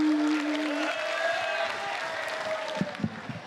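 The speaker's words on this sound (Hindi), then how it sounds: "तब आप समझ लेना कि यहां ताली बजानी पड़ेगी अपने को" A live audience claps on cue at a humorous song-and-talk gathering, a dense wash of applause with a voice carrying over it, fading toward the end with a few final louder claps.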